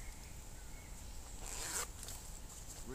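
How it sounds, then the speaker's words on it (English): A zipper runs along a heavy-duty waterproof bushcraft bag in one quiet, steady pull with a brief louder rasp near the middle, and no one speaks. "You got a zipper."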